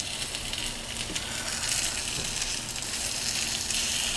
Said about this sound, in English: now I can smell the cheese cooking on the bottom of the pan